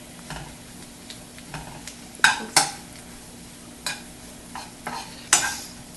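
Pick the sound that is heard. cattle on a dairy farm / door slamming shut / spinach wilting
spinach wilting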